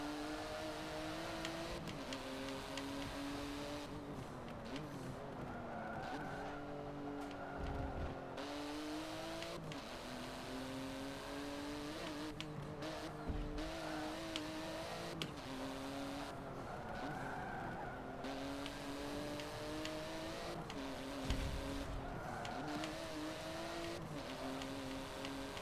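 A race car in Forza Motorsport 7 holds a high, loud engine drone at full throttle, the revs dipping briefly and climbing again through shifts and corners, with occasional tire scrubbing.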